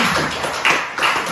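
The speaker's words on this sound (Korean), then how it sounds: "와, 우리 박수 한번" Brief burst of applause from a small church gathering of parents, a short patter of claps rising twice within a moment, close and lively.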